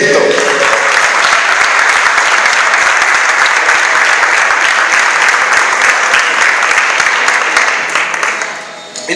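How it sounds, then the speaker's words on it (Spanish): A church congregation bursts into loud, dense, sustained applause during a Spanish-language sermon, a continuous roar of many hands that tapers off slightly at the very end. "¿Cuántos pueden aplaudir esto?"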